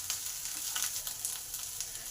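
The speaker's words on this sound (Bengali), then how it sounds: "আদাটাকেও ভালো করে ভেজে নেব" Ginger paste and curry leaves fry in a pan for a potato curry, giving a soft, steady, crackling sizzle that is close but quiet, with no talking.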